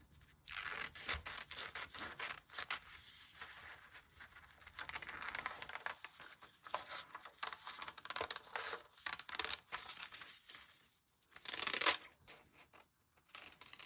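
Scissors cut through paper for a hood sewing pattern, giving soft continuous crunching and rustling with brief pauses and a louder crinkle near the end, quiet and close with no talk.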